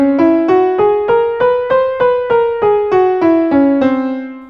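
A software-generated Enigmatic Scale played in Tessitura Pro, about a dozen evenly spaced synthetic notes climbing and then descending, each with a sharp attack and short decay, clear and close with no talking.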